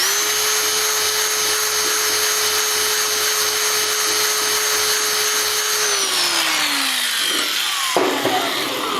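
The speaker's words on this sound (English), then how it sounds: "I'm using a ball flex hone just on my cordless drill." A cordless drill spinning a ball flex hone inside a Porsche 911E engine cylinder whirs at a steady high pitch with scraping from the hone, then winds down near the end before a brief clunk.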